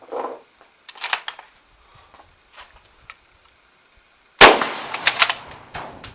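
Rapid rifle shots from a Czech Vz24 Mauser fired standing at 50 yards, a loud sharp burst of reports starting partway through after quieter clicks and handling sounds of the action.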